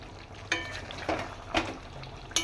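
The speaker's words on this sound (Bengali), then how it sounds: "একটু তলা যাতে না বসে যায় তলাটা নাড়িয়ে দিলাম" Lemon chicken being stirred in a pan to keep the bottom from sticking, with a steady soft sizzle and a few sharp scrapes of the spoon against the pan, close by and alone.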